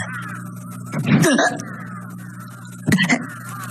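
Two harsh crow caws, one early and one near the end, standing out over a steady low hum.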